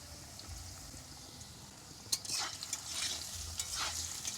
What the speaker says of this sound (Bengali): আলুটা একটু নাড়াচাড়া দিয়ে ভেজে নেব